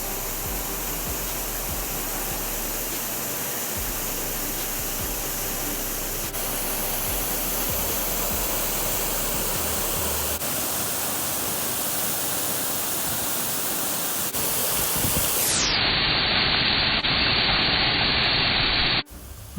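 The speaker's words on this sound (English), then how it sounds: "The water flow was good since we had visited during rainy season." Thoomanam Waterfall near Wadakanchery, Thrissur, in the rainy season, roars as a dense continuous hiss of falling water, loud and steady throughout with no voices.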